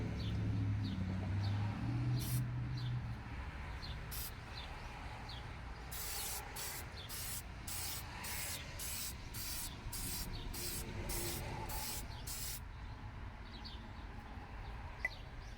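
Spray paint applied to pannier mounting hardware: a quick series of about ten short, evenly spaced hissing bursts, with faint bird calls and low background noise.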